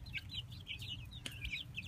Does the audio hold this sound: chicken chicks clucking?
yes